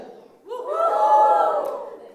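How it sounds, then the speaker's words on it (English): A stand-up comedy audience raises a short, half-hearted cheer, a swelling wash of voices that rises quickly, holds for about a second, then fades, heard alone without the comedian speaking. "It's such an apologetic cheer."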